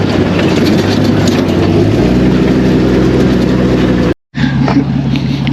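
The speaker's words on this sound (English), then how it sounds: "Just a lot of driving." Vehicle engine droning loud and steady while driving a mountain trail, low rumble throughout with a shift in pitch midway and a momentary dropout near the end.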